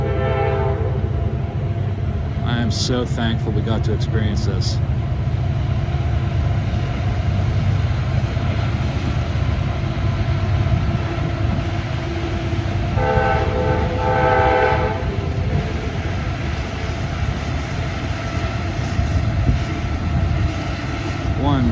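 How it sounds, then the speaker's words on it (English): The Keystone Limited train climbs a mountain curve between Gallitzin and Altoona, a steady heavy rumble with horn blasts sounding at a distance early and again midway, under people's voices. "The train's coming up the curve"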